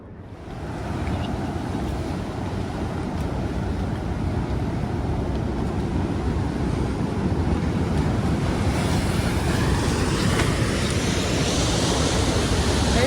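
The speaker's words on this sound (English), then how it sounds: "but here is the ocean with big waves" Big ocean waves break and roar steadily near a river mouth, a loud, continuous wash of surf with wind buffeting the microphone throughout, no voices.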